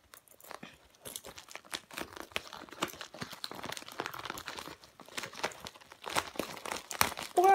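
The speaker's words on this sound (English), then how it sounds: "Or I'll just tear it open." Packaging around a new speed cube being torn and crinkled open by hand, close up, with irregular ripping and crinkling bursts that grow louder toward the end.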